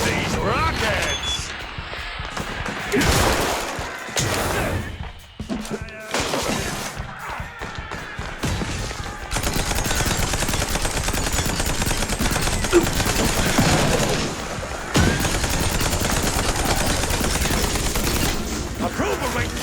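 Rockets firing and exploding in the video game Mouse: P.I. For Hire: loud rapid bursts of gunfire and blasts with heavy thuds, continuous and dense, with voices speaking over parts of the action.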